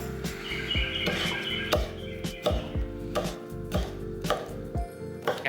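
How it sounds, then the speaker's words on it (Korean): A knife thinly slices one Cheongyang chili pepper, giving a steady run of crisp, close chopping taps about every half second against a faint background hum, with no talk. "청양고추 한 개는 송송 썰어 주겠습니다."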